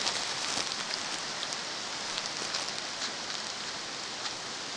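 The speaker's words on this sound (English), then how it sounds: "And see all the rain coming down here." Steady rain pours down outdoors on a rural property during a flood, a dense, even hiss of drops hitting surfaces that continues without pause and with no voices.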